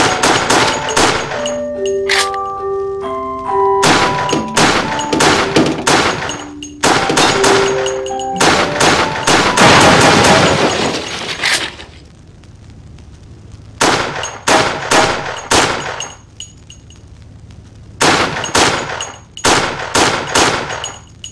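Gunfire in Resident Evil: The Darkside Chronicles, loud bursts of rapid shots in repeated volleys with metallic clangs and pinging tones between them, pausing briefly before further bursts.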